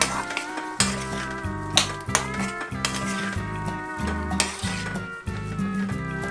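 A spoon stirs carrots, potatoes and raw papaya in a metal pot, scraping and knocking in a steady rhythm of clinks and thumps, close and clear with faint sizzling underneath.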